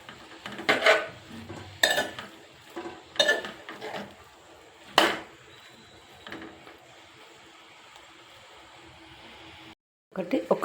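A spoon knocks and scrapes against a pot as chicken pieces are stirred for birakaya chicken curry, giving several sharp clanks spaced a second or so apart over a faint background before a brief silence.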